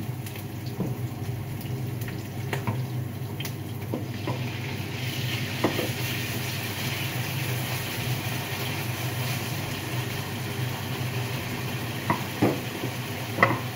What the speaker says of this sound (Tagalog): Tapos, naka-high fire kasi tayo. Lagay na natin tong chicken.